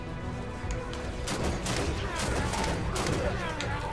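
Bursts of rapid gunfire in the Halo 5 Guardians video game, overlapping shots and thuds rolling continuously, loud and close, with a player's voice over the action.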